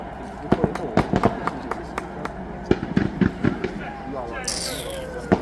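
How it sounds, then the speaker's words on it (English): Fireworks burst after a farewell concert at Villa Park, a rapid series of sharp cracks and pops heard over crowd noise and nearby talking. "I literally saw the fireworks go off when I was in the train station."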